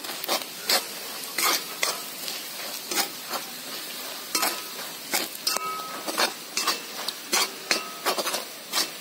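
Clams fry in a pan with chili powder, a continuous close sizzle broken by repeated sharp scrapes and clinks of a spoon stirring against the metal.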